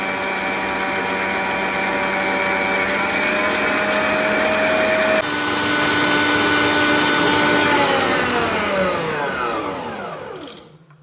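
An electric mixer whips eggs and 120 g of sugar for a strawberry fraisier cake batter, a steady loud motor whine that drops in pitch midway when the speed changes, then winds down to a stop near the end.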